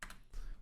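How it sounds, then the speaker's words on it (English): A few quick, soft keystrokes tap on a computer keyboard while a password is entered, close and quiet, clustered in two brief bursts. "Put in the password."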